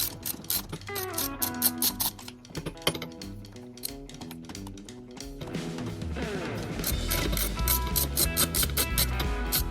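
Ratchet wrench working a 10 millimeter voltage regulator bolt on a Suzuki Quadrunner 4x4 ATV, with rapid metallic clicking bursts that speed into a continuous loud ratcheting whir, close and alone.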